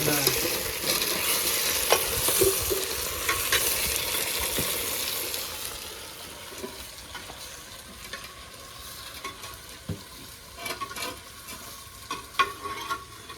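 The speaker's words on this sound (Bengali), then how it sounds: "দাদা মাংসটা ভালোই হয়েছে কি মাংসটা কষানো হয়ে গেছে" Meat being stirred and sautéed in a clay pot, a continuous crackling sizzle with repeated scraping and stirring strokes, louder early and easing off later, no speech.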